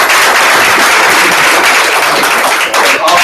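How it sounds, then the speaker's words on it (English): Applause from a sales meeting audience, a dense steady wash of clapping that runs loud and unbroken throughout with no voices over it. "So give yourself a round of applause."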